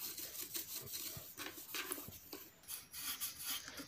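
A scrub pad rubs back and forth over a mixer grinder jar in quick, rasping strokes, close up but quiet, with short pauses between bursts of scrubbing.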